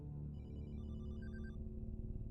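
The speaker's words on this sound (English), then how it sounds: "Is that a phone ringing? Yes. And I swear it's Carter's ringtone." A phone ringtone in the video game Desolatium chimes as a faint, repeating electronic melody of bright tones over a low steady ambient drone, with no one speaking.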